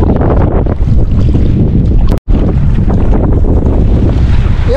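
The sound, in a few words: strong wind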